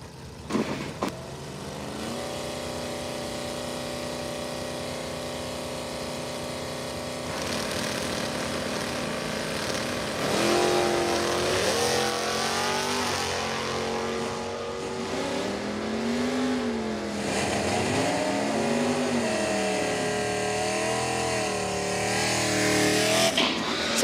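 A drag race at Numidia Dragway during the Class Racer Nationals, with an automatic Camaro among the cars launching: steady, loud engine drone builds into rising, wavering revs that swell and dip as the cars accelerate down the strip, with no talk.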